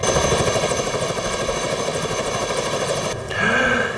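A helicopter used for aerial filming roars steadily overhead, its loud, continuous rotor and engine drone shifting briefly in tone near the end.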